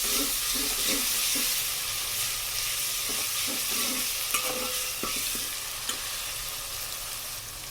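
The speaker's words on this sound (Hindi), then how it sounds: "इसको हल्का सा हम मिक्स कर लेते हैं।" Garlic ginger paste and onions are stirred in a sizzling pan, a steady frying hiss with repeated scraping strokes of a spoon against the pan.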